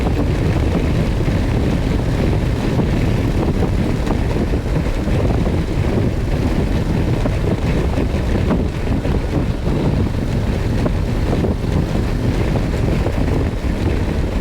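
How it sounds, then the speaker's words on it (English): Heavy, constant wind roar buffets the microphone while riding a 2024 Harley-Davidson Road Glide motorcycle on the road, a loud, unbroken rush with no voices. "Really getting a lot of wind now, pushing me around, and I feel planted."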